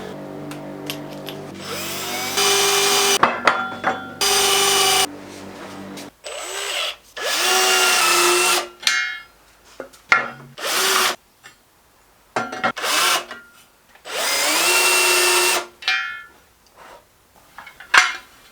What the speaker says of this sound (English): So it's time to pre-drill the holes for the tracks.